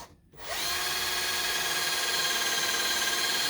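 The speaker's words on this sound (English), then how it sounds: "Drill a wee hole." A power drill whirs steadily and loudly, drilling a small hole in wood, after a brief quiet start, running continuously without pause.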